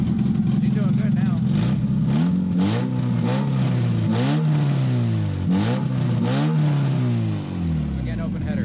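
Toyota MR2 with a 7AGE engine and an open header, running loud and close. Repeated revs rise and fall above a rough, throaty idle, with several blips in a row.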